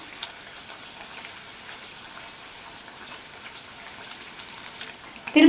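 Sojji appam, a sweet fried snack, crackling in hot oil in a pan, a steady soft sizzle throughout with a louder clatter right at the end.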